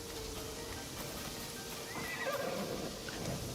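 A horse neighs and whinnies in Assassin's Creed Shadows, a clear call rising over steady rain-like background noise with faint hoof clip-clop.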